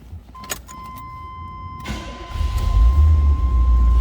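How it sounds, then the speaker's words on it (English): A 1980 Chevrolet Corvette is started from inside the car: a brief chime and starter crank, then the V8 catches and settles into a loud, steady, rumbling idle that grows fuller over the final seconds. "Let's go ahead and fire this up so you can hear it run."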